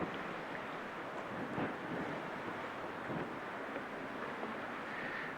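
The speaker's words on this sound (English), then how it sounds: "It's a bit windy today." Wind blows across a lighthouse gallery about 60 feet above the water on England's south coast, a faint, steady rushing hiss with soft gust swells and no voices.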